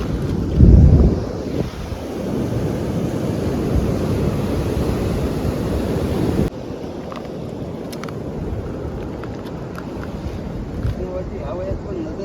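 Sea waves wash in on Karde beach as the tide rises, a continuous rushing surf heavily buffeted by wind noise on the microphone, with a loud gust near the start.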